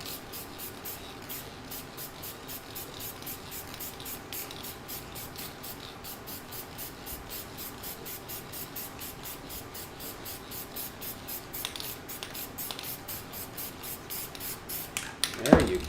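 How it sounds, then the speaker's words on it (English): An airbrush sprays a UV-resistant clear coat over a chameleon paint sample, a steady close hiss pulsing in quick regular bursts, ending with a brief clatter. "I'm putting a clear coat of UV resistant clear over it"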